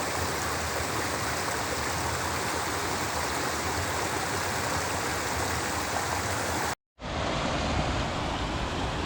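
A small waterfall on a creek near Payson, Arizona, rushes in a dense, steady roar of falling water, close and loud, broken by one brief cut before it resumes.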